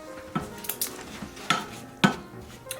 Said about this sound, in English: And you're going to stir it together until the sugar dissolves.